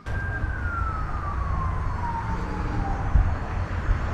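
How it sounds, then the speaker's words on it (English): An emergency siren wails in the distance, a steady descending tone sweeping slowly downward over a constant low rumble, heard outdoors near a garage where an LS-swapped 4.8 engine is being worked on. "Them damn sirens are always going."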